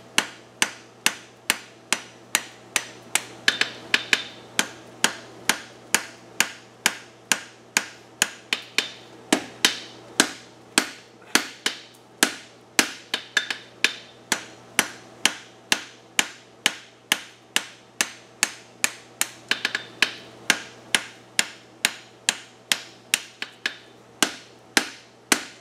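A hammer strikes hot steel while forging and upsetting the heel of a two-piece bevel horseshoe, ringing out in dozens of sharp, evenly spaced blows with a steady rhythm, loud and close, with no talk.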